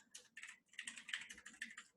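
Rapid typing on a computer keyboard during a trading chart session, a dense continuous run of close, crisp key clicks for about two seconds with no talking.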